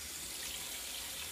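Tap water runs steadily into a container with a blue dotted fill line, making a constant, close rushing hiss with no pauses and no voices.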